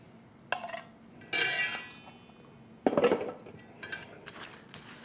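Chopped dill pickles are stirred into a cup of sauce, giving sparse clinks and scrapes of a utensil against the cup in separate bursts between quiet gaps.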